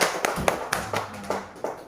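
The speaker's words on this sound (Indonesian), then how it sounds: "kasih tepuk tangan dulu buat Amira ya." Schoolchildren in a classroom clap their hands in a short burst of about seven sharp, fairly evenly spaced claps, moderately close.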